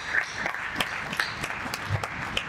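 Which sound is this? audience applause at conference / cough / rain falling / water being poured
audience applause at conference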